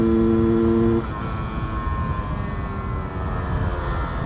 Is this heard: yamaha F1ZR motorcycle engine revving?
yes